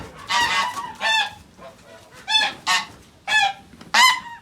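Geese on a farm honking loudly and close by, in six or seven separate bursts of harsh nasal calls with short pauses between them.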